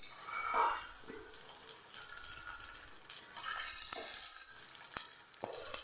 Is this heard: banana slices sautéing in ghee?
yes